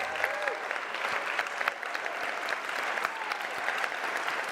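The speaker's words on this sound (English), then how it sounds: "give them a round of applause" Applause fills a conference hall at a 125th anniversary celebration as a standing audience claps steadily throughout, dense and sustained with no pauses.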